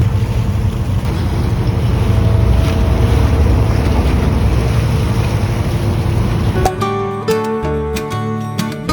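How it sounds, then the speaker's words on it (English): Ferry crossing the Tagus River near Lisbon, with a steady low engine rumble and heavy wind buffeting the microphone. Near the end the wind drops and tonal mechanical sounds come through. "we rode the ferry across the Tagus River"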